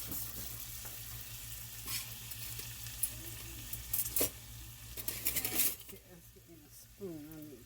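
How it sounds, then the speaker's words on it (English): Peppers and onion sauté in a pan with a soft, constant sizzle, broken by scattered utensil clinks and scrapes, and a voice speaks briefly near the end. "So we're just going to let them saute for about 10 minutes."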